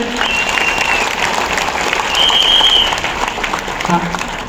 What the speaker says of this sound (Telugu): గట్టిగా క్లాప్ చేయండి ఒకసారి.